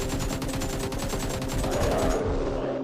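In the video game Survive and Rise, an AK rifle fires in a rapid continuous automatic burst. The rattle is steady, dense and moderately loud, with no talking.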